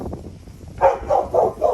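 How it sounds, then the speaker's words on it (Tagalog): A dog barks four times in quick, evenly spaced succession, close and loud, after a stretch of low background noise. "Aso dito, lakas."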